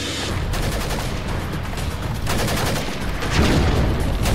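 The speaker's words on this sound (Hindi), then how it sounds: "गोली चली" Rapid bursts of gunfire crackle continuously, loud and dense, like a sustained volley with no pauses.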